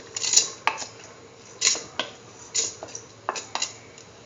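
Washed, soaked rice goes into a pressure cooker in a series of distinct clinks and clatters against metal, spaced out over a few seconds with short scraping and rattling between them, close and fairly clear with no voices.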